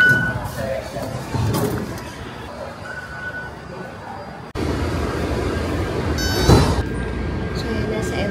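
A Taipei MRT train hums and rumbles during a ride, mostly low and steady under nearby conversation, with one louder surge partway through.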